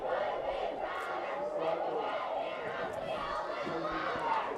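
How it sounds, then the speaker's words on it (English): A dense crowd roars and cheers steadily at a Colby high school football playoff game, a continuous, distant wall of voices with no clear breaks. "You can really hear the Colby crowd now."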